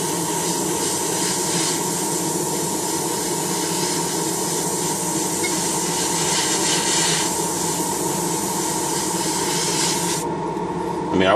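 An airbrush sprays glossy model paint at high pressure onto a spoon. It gives a loud, steady, close hiss that runs almost the whole time and cuts off just before the end.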